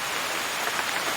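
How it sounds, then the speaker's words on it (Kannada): Steady rain falls continuously on a surface in a village with areca palm trees, a dense even hiss with no voices. "ವಾಪಸ್ ಬಂತಲ್ಲ ಮಳೆ ಈಗ"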